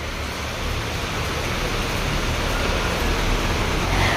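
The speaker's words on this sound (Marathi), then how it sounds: "भयंकर पाऊस चालू आहे" Heavy rain pours steadily outside a gallery or terrace in Sinnar, a dense, even wash of broadband hiss that stays loud and unbroken throughout, with no talking.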